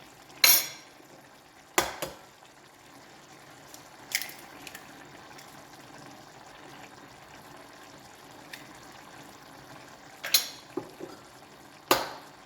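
Eggs are cracked into a tajine dish for a Moroccan kefta and egg tajine: a handful of sharp, separate taps and clicks against a quiet kitchen background.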